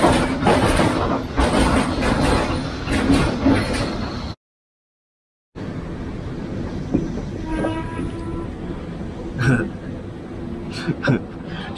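A train rumbles past loudly and continuously, with a brief silent gap midway, then steady rail clatter with faint squeals and knocks.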